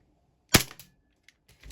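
A single sharp crack of a toy gun firing a ball shot, close and loud, followed by a brief rattle and a few faint clicks.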